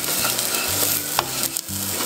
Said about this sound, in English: Mix to incorporate.